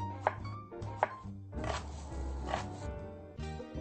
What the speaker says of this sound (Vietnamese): Tôi sẽ cắt rau củ quả ra từng khối vuông cỡ miếng đậu hũ là được rồi quý vị ạ